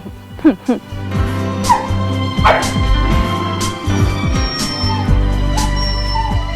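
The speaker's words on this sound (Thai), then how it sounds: "เมื่อกี้มีพี่ๆเขาฟ้องมี ว่าหนูเห่าเสียงดัง" A small dog yips and barks in short, close bursts, with whimpering squeals between them, while people talk nearby.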